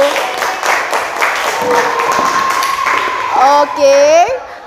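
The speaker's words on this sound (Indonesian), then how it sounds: "Tepuk tangan dulu dong, give applause for you." Schoolchildren clap together in a classroom after a group discussion, a short burst of applause mixed with voices and a rising cheer-like call near the end.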